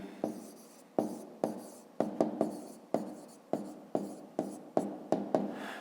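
A pen scratches out a maths formula by hand on paper in a series of short, evenly paced strokes, each starting sharply and fading, close and quiet with no talking.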